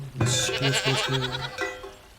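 Goats in the Farthest Frontier game bleating, several loud close wavering calls that overlap in a quick run and then one more, heard alone.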